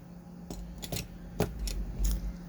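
Several short, crisp snips of pinking shears cutting, spaced irregularly, close and fairly quiet against a low background hum.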